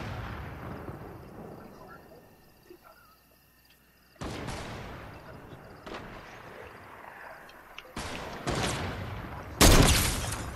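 Sniper shots in the Fortnite video game, a few sharp, loud cracks spaced several seconds apart, each with a brief booming tail, over a low background of game noise and a voice talking.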